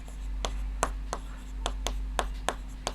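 A teacher writes out a maths solution, likely chalk on a board, giving a dozen or so sharp short taps and strokes in an uneven rhythm over a low steady hum.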